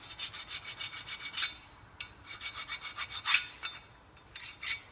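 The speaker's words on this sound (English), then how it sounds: "cleaning all the rust out of there, making them nice and clean and flat" Rusty brake hub on a Citroen C2 1.1 being scrubbed clean, a series of repeated rasping strokes in quick bursts, close and fairly loud with brief pauses between runs.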